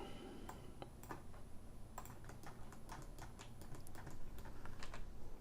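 Steady, close typing on a computer keyboard, with quick irregular key clicks running throughout over a faint background hum.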